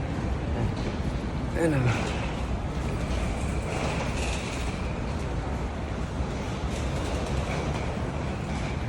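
An airport train carrying passengers to the immigration area gives a loud, steady rumble throughout, with a person speaking briefly over it.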